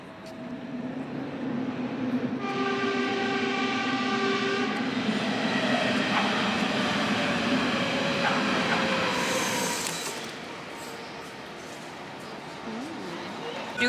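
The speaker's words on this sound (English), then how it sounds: "Currently we're waiting for a train, what I believe is the right platform" A train pulls into a Berlin station platform with a loud rumbling roar and a sustained horn-like tone, then the noise eases to a lower station hum, heard nearby.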